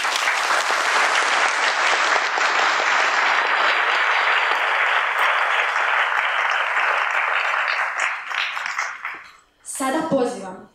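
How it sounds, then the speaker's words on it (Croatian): A school audience at an end-of-year show gives sustained, loud applause for a performance of the school anthem, which slowly fades out before a voice briefly speaks. "Pozdravimo ih jednim pljeskom."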